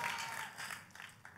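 Church congregation applauding, a soft, distant patter of many hands that fades and thins out over a brief moment.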